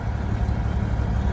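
A small water pump motor in a motorhome switches on by itself and runs at close range, giving a steady, vibrating low hum that does not change over its brief span.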